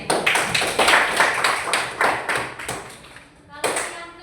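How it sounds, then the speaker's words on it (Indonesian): One person claps hands during a maths lesson, a quick run of sharp, close claps in an uneven rhythm, a brief pause, then one final clap. "tepuk tangan untuk diri"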